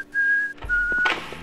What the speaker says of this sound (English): Stop whistling, Greg!